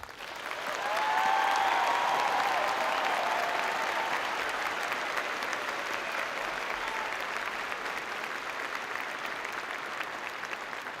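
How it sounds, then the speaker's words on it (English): A large crowd at the NC State University Fall 2023 commencement claps for the graduating class of 2023, with sustained, even applause filling the hall for about ten seconds and a brief whistle near the start. "please join me in giving the class of 2023 a congratulatory round of applause."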